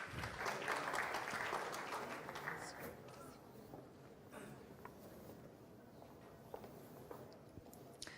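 An audience applauds in the first few seconds as a speaker from the Brazilian bar association is introduced, the clapping fading into quieter room noise and scattered shuffling.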